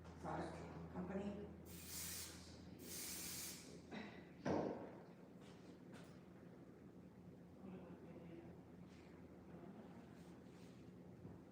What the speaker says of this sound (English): I am certainly not afraid of putting hairspray in curls